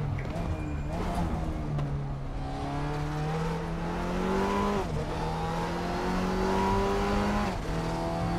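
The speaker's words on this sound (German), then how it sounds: "So, jetzt habe ich mal hier ein bisschen mehr Gas mitgenommen." Audi TT Cup race car in the RaceRoom sim at Mantorp Park, engine revving hard through repeated upshifts with climbing pitch and brief drops at each gear change, loud and continuous.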